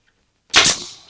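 Staple gun firing a single sharp snap as it staples fabric onto a car door card interior trim panel, close and loud after a moment of quiet.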